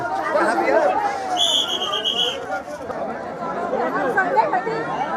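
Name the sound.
crowd of pilgrims at Gangasagar Mela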